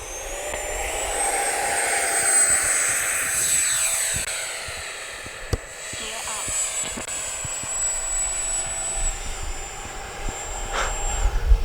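An FMS Rafale 80mm EDF radio-controlled jet whines steadily as it takes off and flies, its high-pitched fan tone rising and shifting with passes, loud and continuous, with a voice talking occasionally over it.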